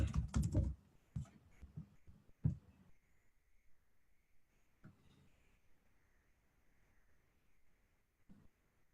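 Typing on a computer keyboard, with short, close bursts of clicking keystrokes in the first few seconds that thin out into a quiet room with only scattered taps.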